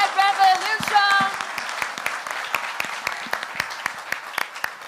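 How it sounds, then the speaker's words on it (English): Audience applause at the Vespa Red scooter launch event, a steady patter of many hands clapping that rises after a loud announcer's voice at the start and carries on with sharp individual claps. "can we have one final round of applause for the Vespa Red and the Red Revolution?"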